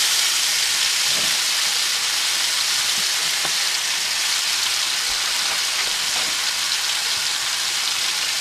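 Seasoned chicken pieces for Jamaican curry chicken frying in a pot, a loud, steady sizzling hiss close by with faint stirring knocks.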